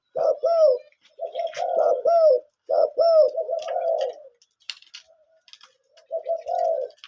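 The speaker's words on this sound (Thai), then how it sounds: "นกที่ออกต่อเป็นประจำเมื่อคืนนี่ครับเจ้ากวนอูครับ" A caged dove cooing close by in a series of soft, rhythmic coo phrases separated by brief pauses.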